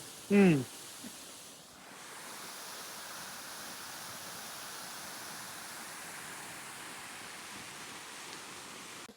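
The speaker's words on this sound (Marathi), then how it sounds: "फाउंटन आहे" Water from a garden fountain rushes in a steady, broadband wash near a temple in foggy Sikkim, continuing evenly after a short voice at the start.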